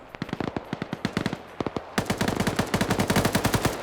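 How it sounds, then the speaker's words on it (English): Automatic gunfire in an online multiplayer shooter match, rapid bursts of sharp shots, sparse at first, then a dense, louder sustained stream of fire, close and without any talk. "Nessa just mag dumps his face."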